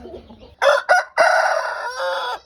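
A rooster crows loudly and close by, a few sharp opening notes followed by one long drawn-out call that ends abruptly, with faint low background noise before it.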